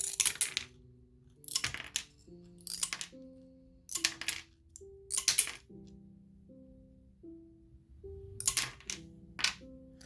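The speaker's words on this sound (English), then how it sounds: "So now I'm going to be coming through and snipping into bits." Glass nippers snip blue glass into small bits with a series of sharp, close crunching snaps, each followed by tinkling chips that ring out, about ten cuts with short pauses between them, and no voices.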